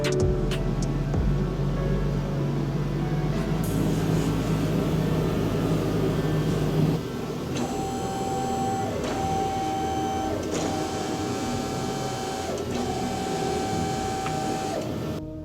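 A car lift raises a BMW F-series off a garage floor with a steady loud mechanical hum and whine that drops in pitch halfway, then continues with several short repeated beeping tones.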